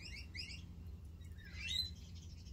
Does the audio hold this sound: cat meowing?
no